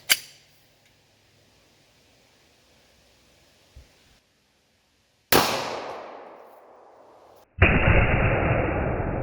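A .40 S&W pistol fires into two stacked 2x6 boards, giving a sharp crack at the start, then a small tap. Two louder, close blasts follow later, one decaying and one sustained, with no talking.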